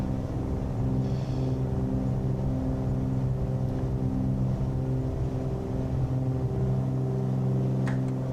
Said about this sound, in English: Good power. Engine sounds looking good.